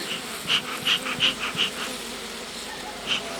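Honey bees at a Ukrainian-Alpine beehive hum steadily and close, with a continuous buzzing drone and repeated brief louder swells as individual bees pass near.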